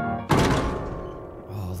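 A piano dropped from a height in the BeamNG Drive video game lands with a single heavy thunk and a booming, resonant crash, then rings out as a long fading tone.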